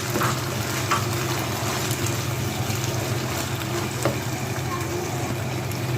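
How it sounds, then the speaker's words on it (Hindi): Chili sauce being stirred and mixed in a hot pan over a medium flame, giving a steady continuous sizzle and soft scraping throughout, moderately loud and close with no talk. "चिली सॉस, इसको मिक्स करें मीडियम फ्लेम करके।"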